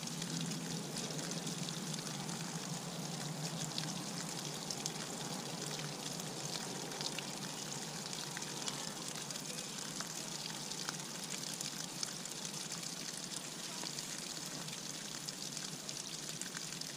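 Water and coolant flushing out of the cooling system of a Honda CBR250R MC19 motorcycle, a steady close pouring and trickling wash that runs continuously without a break and with no talking over it.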